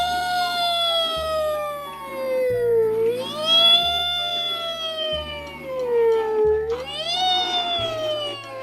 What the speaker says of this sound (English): It's a white ambulance. Oh, and here are its sirens.